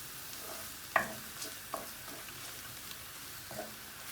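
Garlic mashed and stirred in hot oil for Bangladeshi shutki bhuna, a faint sizzle under a few soft scraping knocks of a utensil against the pan, spaced about a second apart.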